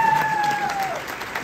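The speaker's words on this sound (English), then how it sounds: "So I'd like to give myself a round of applause for that." Applause from an audience at a trade-school event, a short burst of dense, steady clapping and crowd noise heard at moderate distance with no speech over it.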